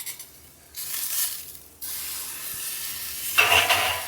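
Steak sizzling over the fire of a drum smoker as it is flipped, bursts of loud hissing rising and fading in waves, with a fresh surge near the end.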